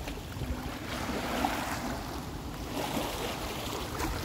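Strong wind and waves roar steadily outdoors in nature, a dense unbroken rush of gusts and churning water with no voices.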